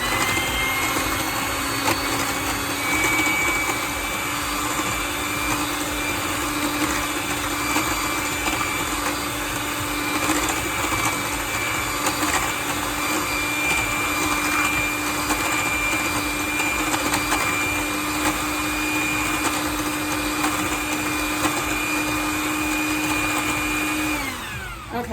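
Electric mixer beating lemon blueberry loaf batter, a steady whirring motor drone that runs continuously for about 24 seconds at even loudness, with no talking, then cuts off at the end.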